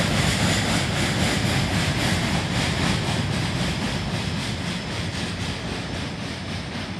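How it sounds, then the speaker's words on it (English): A freight train with Herzog ballast cars rolls past near a bridge, a loud, continuous rumble and clatter of wheels that holds steady and then slowly eases. "And a couple of Herzog ballast cars here. Soon enough, the end of the train would go by."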